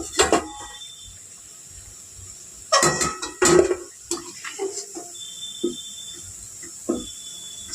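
A metal spatula scrapes and clinks against a pan while lifting fried palm fritters, a few sharp clatters and knocks with quieter stretches between them and no talking.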